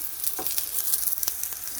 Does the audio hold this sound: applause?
no